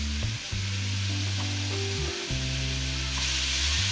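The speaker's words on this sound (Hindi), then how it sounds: "ये भिंडी, पालक और प्याज की रेसिपी बना रही हूँ।" Okra, spinach and onion frying in a pan, an even hissing sizzle with a few stirring clicks, close and low in level with no voices.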